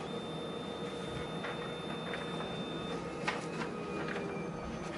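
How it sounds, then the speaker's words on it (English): A hospital lab printer prints out a report in the background, a faint steady mechanical whir with soft ticking and occasional light clicks, distant and low in level. "I can hear the printer in the background."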